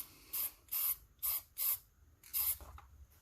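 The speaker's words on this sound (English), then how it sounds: "Oh, you gotta shake and pre-spray your can." A spray paint can hisses in five short bursts, evenly spaced, close by, with rattling between sprays.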